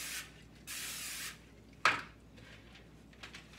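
Baking spray hisses onto a cake pan in the kitchen, two longer sprays followed by a short burst and a faint brief spritz, close up with no talking.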